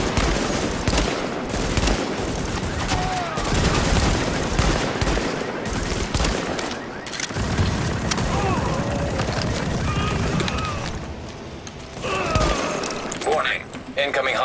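Sustained gunfire in Tom Clancy's The Division, dense overlapping rifle and machine-gun bursts over continuous battle noise, with voices talking at times.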